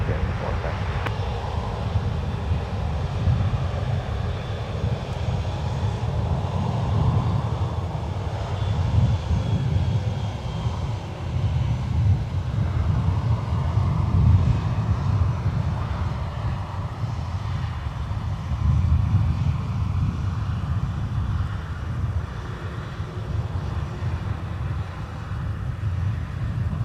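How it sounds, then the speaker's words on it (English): Delta airliner on its takeoff roll from runway 17 at Minneapolis–St. Paul Airport, a sustained heavy jet engine roar heard from a distance, steady and broad throughout with a faint radio voice at the start. "For you, Delta 2454, fly runway heading, runway 17, clear for takeoff."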